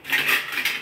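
A plate is picked up with a short bright clatter of dishes and cutlery, close and brief, under a second long with no talk.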